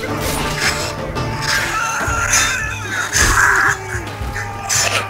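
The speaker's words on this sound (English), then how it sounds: "Just hearing screams cutting in and out." Screams and combat noise from the medieval melee game Chivalry, played through speakers on an old MacBook: loud, dense clashing and shouting that cuts in and out continuously, with bursts of strained yelling over a constant crowded din.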